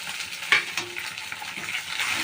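A tempering of spices and dried red chillies sizzles in a pan while being stirred, a close, even crackle with a few sharper spoon clicks.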